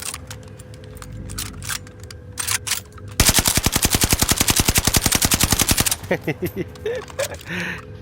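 Video game gunfire: scattered single shots, then a long rapid automatic burst of about three seconds, followed by a few more shots, with a voice talking between the firing.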